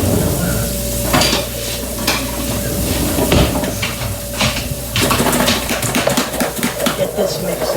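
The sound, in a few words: onion and garlic sautéing, stirred with wooden spoon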